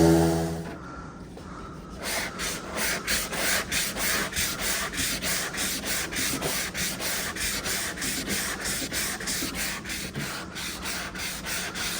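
Pinball machine parts get a rough hand sanding, a fast, even run of rhythmic rasping strokes after a brief pause, close and clear with no talk.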